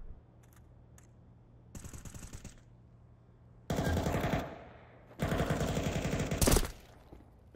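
Bursts of automatic rifle fire in a shooter video game, several rapid rattling volleys separated by short pauses and single shots, loud and close with no talking.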